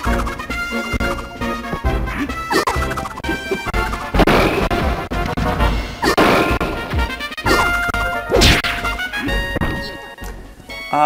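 Super Smash Bros. running under Nintendo 64 emulation on a Pandora handheld: loud, busy game audio with music, repeated hits, smashes and crash effects layered densely throughout.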